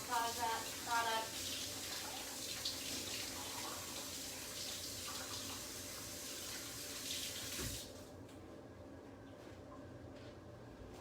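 Tap water runs steadily into a sink while fingers are washed under it, a close hissing splash that stops abruptly near the end, leaving a quiet room.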